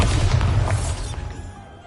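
Bombarda spell explosion in Hogwarts Legacy: a heavy booming blast that rolls and fades away over about two seconds, loud and alone.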